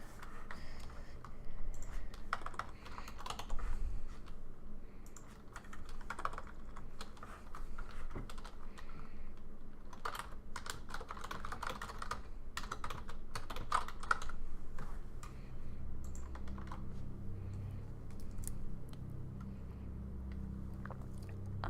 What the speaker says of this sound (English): I am definitely typing everything in English